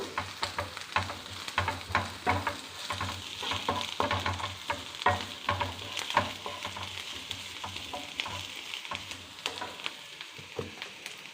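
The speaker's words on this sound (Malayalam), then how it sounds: "ഉള്ളി ഇട്ട് ഇഞ്ചി ഇട്ട് പച്ചമുളക് ഇട്ടു നമ്മൾ കറിവേപ്പില ഇട്ടു" Onion, ginger, green chili and curry leaves frying in a pan for rava upma with egg fry, a steady close sizzle broken by repeated scraping stirs of a spatula, no voices.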